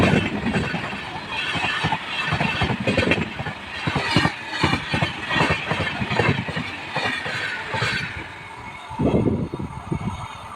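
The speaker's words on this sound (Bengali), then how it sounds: "এক্সপ্রেস ট্রেনটি এখন ছুটে চলেছে নৈহাটির দিকে" Express train running along a railway line at night toward Naihati, a loud rumbling passage of wheels and carriages with rhythmic clatter, heard close and rising and falling as it passes.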